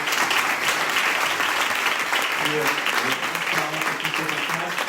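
A meetup audience applauds the speakers at the close of a round-table discussion, a dense, steady burst of clapping with a few brief voices audible beneath it.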